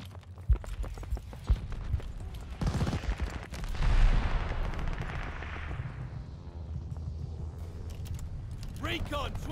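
Gunfire crackles through a Call of Duty: Vanguard multiplayer match as sharp single shots and bursts, followed by a loud booming blast that fades away, with a voice briefly audible near the end.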